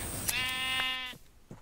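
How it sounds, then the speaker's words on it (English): A Minecraft sheep gives a single drawn-out wavering bleat, close and clear, with a couple of faint taps around it. "Sheep."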